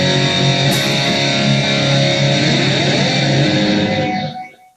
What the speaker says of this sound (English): Now I also when I do this, I kick on the phase delay, so it sounds like this.